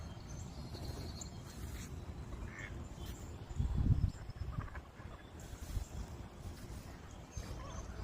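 Ducks on a small lake in a park, faint quacking calls scattered over steady outdoor wind and ambient noise, with a brief louder rumble midway.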